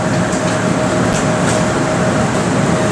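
A passenger train at Chhungchhung railway station gives a steady, unbroken rumble and hum throughout, heard close up as if from inside the carriage, with no voices.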